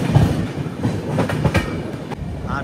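A passenger train, the Chennai Central to Visakhapatnam weekly superfast express, runs steadily with a continuous rumble and a few brief clicks of wheels over rail joints, heard close and loud from on board with no talk.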